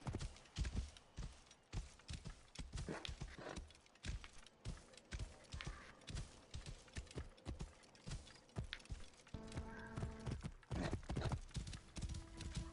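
Rhythmic clip-clop of horse hooves with an occasional whinny in the video game Assassin's Creed Origins, fairly close and steady, later joined by a sustained tonal backdrop.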